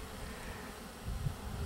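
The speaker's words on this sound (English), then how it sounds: "I just got bounced in the head by one bee" A honeybee buzzes close to a beekeeper's unprotected head beside busy hives, a steady low drone that swells slightly near the end, with no talking.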